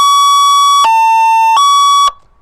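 Ambulance-style electronic siren on a Lexus GX460 siren unit, a loud steady tone stepping between two pitches roughly every three-quarters of a second, close and alone, cutting off abruptly at the end.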